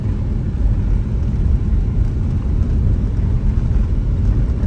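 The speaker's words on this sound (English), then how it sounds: "Another car coming." A car approaches along a dusty road under construction near Accra, a broad steady engine and tyre rumble building close by, with continuous low-frequency roar and no talk.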